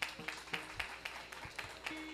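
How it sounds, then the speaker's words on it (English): A small crowd at a spiritual gathering claps in a loose, fairly slow rhythm, individual hand claps audible rather than a dense roar, moderately close. "How about we hear a big round of applause?"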